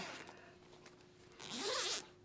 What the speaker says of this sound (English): Grab this zipper